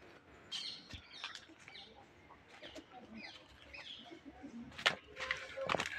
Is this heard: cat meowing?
no